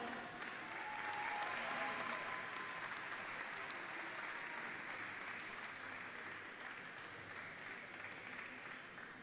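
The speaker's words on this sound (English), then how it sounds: "Let's give them a warm round of applause." A crowd at the U19 Pan American Cup volleyball final ceremony in Mexico gives sustained, even applause that sounds fairly distant and soft, holding steady for several seconds with no voices standing out.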